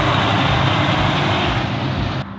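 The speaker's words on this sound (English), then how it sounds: "Just a massive semi truck." A massive semi truck rumbles past close by, a loud, steady broadband roar of engine and tires that holds for a couple of seconds before cutting off abruptly, with no voices.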